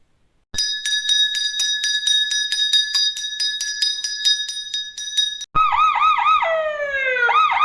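A bright bell rings rapidly and repeatedly for about five seconds, then cuts to a wailing electronic siren with looping tones.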